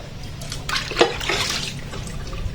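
Water sloshes and trickles in a sink while dishes are washed and plates soak, with a brief splash in the middle and steady splashing running throughout.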